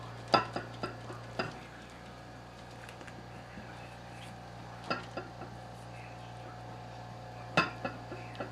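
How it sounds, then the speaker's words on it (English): Stick blender working through cold-process soap batter at accelerated trace, before fragrance oil is added: a steady low motor hum with scattered clinks and taps against the container. "Just going to blend it really good"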